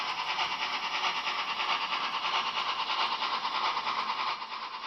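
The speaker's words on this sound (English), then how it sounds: "Here the engine runs in the tightest possible condition." A Märklin 39498 model steam locomotive runs along its track with a steady, even whir and rattle, close by and continuous, fading slightly at the very end.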